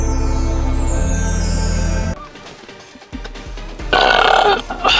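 A woman's loud, drawn-out burp follows a steady tonal drone and a quieter stretch. The belch comes close and strong near the end.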